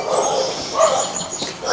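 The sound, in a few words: dogs barking at animal control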